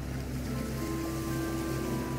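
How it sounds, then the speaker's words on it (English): Ocean waves wash onto a sandy beach in a steady, continuous rush of surf, with a faint sustained tone humming under it and no voices. "You can hear the sound of the water"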